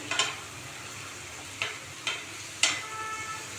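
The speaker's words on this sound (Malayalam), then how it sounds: "മഞ്ഞൾപ്പൊടി ഇട്ട് ഇതൊന്ന് നന്നായിട്ടൊന്ന് ഇളക്കിയിട്ട്" Spoon scraping through taro pieces with turmeric powder in a frying pan, four sharp separate scrapes and clacks over a faint sizzle, close up and with no talking.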